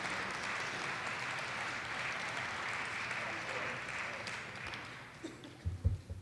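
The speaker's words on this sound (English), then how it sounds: "Let's give the commissioners a round of applause" A crowd at a Ferguson Commission public meeting applauding steadily, a dense wash of clapping that holds for several seconds before tapering, with a few louder thumps near the end.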